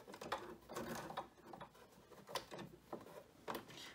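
A sewing machine stitching fabric for a braided crib bumper, a quiet close mechanical whir in short uneven bursts with small clicks.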